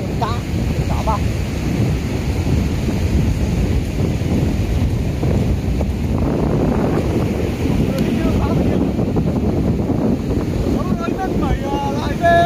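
Strong wind buffets the microphone at Vinh Thanh beach by the sea, a continuous loud rushing roar with gusty bursts and faint surf underneath.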